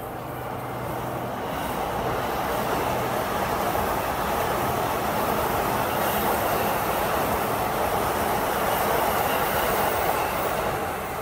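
A train rounding a curve on a Japanese rail line where the track is being dismantled: loud, sustained screeching wheel squeal over rolling rumble, near and continuous with no talk.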